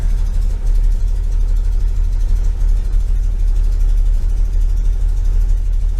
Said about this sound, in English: Touch under 800 on the RPMs. It's pretty good idle.